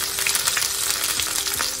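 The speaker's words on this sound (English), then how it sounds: "We're gonna fry the chicken for about 3 minutes on each side, just until it starts to brown." Chicken pieces sizzle and crackle in a hot frying pan for a garlic chicken dish, a steady, close, dense frying hiss with small pops throughout and no talking.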